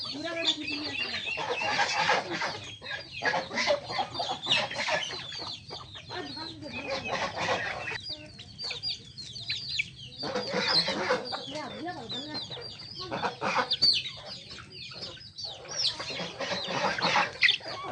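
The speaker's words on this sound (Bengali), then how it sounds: "ধান খাবার দেওয়া হচ্ছে হাঁস মুরগি উভয়ই ধান খায়" Chickens and ducks cluck and squawk busily while being fed paddy, a noisy, near flock with overlapping calls and short pauses throughout.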